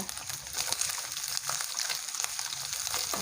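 Ginger cut into round slices is stir-fried in a pan with browned chicken pieces, giving a steady close sizzle and crackle with light scraping stir strokes and no talking.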